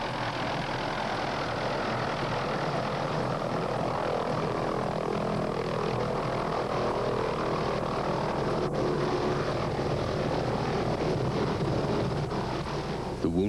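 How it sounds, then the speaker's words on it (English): A Hughes 500 medical evacuation helicopter arriving through early morning mist in Nicaragua, with a loud, steady engine and rotor roar that fills the scene throughout, alone with no voices. "At last, the medical evacuation helicopter arrives through the early morning mist."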